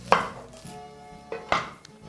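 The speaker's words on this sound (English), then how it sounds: "we're going to start off by chopping some of them" A knife chopping white onion on a board, two sharp close knocks roughly a second and a half apart, with a faint ringing after the first stroke.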